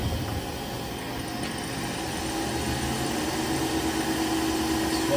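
Haas SL-20 CNC turning center with an 8-inch chuck spinning at around 760 rpm, a steady mechanical hum and whir with low tonal drone, continuous and moderately loud, with a faint pitch rising near the end.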